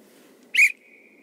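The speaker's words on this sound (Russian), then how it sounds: "свистуля." A single sharp, shrill blast from an emergency whistle, loud and brief, rising out of a quiet low background hum before fading to a faint lingering tone.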